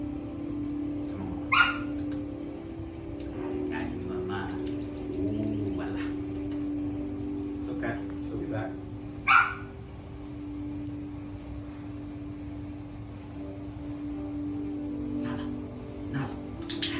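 A dog in a board-and-train rehabilitation setting gives several short, sharp barks spaced through a steady background hum, with birds cooing nearby and no clear talk.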